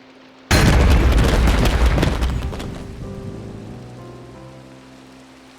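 A single TNT block in modded Minecraft detonates with a sudden loud blast, followed by a crackling debris rumble that slowly fades over several seconds while faint music tones ring underneath.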